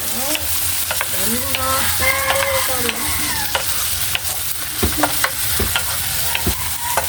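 Corned beef and potatoes fry in a pan while being stirred, a loud steady sizzle under repeated scraping and clinking strokes of a utensil against the pan, close up with no talking.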